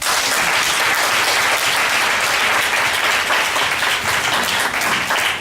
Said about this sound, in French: Acclame-toi.